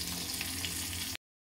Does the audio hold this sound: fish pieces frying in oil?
yes